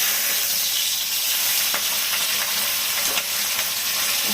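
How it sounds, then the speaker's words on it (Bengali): Pabda fish, coated in oil, fry in a wok with a loud, constant sizzle and crackle, and sharp pops and spits break through the hiss now and then. The frying sounds close and fills the whole span. "প্রচন্ড ফুটছে, তেল মাখিয়ে রেখেছি তা সত্ত্বেও"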